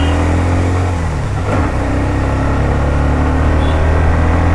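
A 2024 Hero Xtreme 125R motorcycle with a 125 cc engine picks up speed, its steady engine drone rising in pitch with a brief throttle shift near the start, loud and close over road noise, without talk.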